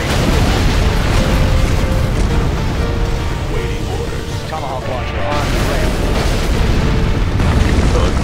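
Tomahawk missile launchers in Generals Zero Hour strike with heavy booming explosions that rumble continuously, loud and dense, under unit voice chatter.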